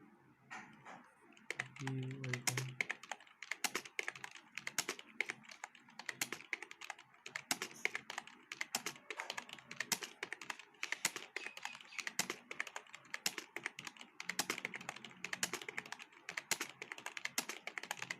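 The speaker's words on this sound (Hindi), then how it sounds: "5 लाइन इसको टाइप करेंगे" Fast, steady typing on a computer keyboard during touch-typing practice: dense runs of close, crisp key clicks with brief pauses between bursts, lasting throughout.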